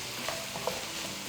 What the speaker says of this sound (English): Now I'm going to give it a big stir.